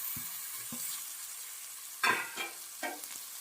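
Chopped tomatoes fry in a pan of chicken curry, giving a steady sizzle broken by a few louder stirring scrapes and clatters close by, with no talking.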